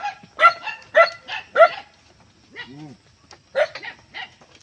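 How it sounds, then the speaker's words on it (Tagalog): Dogs bark outdoors on a rural road in the Philippine province, a few sharp close barks in quick clusters with short pauses and a brief whine between them. "Ito, mga aso."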